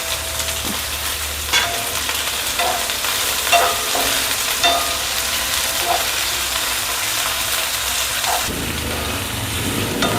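Onion, tomato and capsicum fry in a pan over a gas flame, a steady sizzle with scattered clicks and scrapes of stirring, dropping to a softer hiss near the end.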